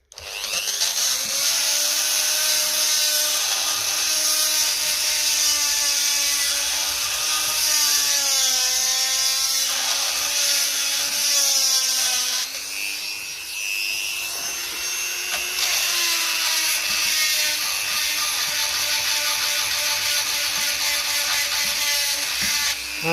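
A grinding head with polish buffs brass battery leads on a 1955 Ferguson 20 TEF diesel tractor, a steady loud whirring motor that wavers in pitch as the tool presses in, running continuously without talk.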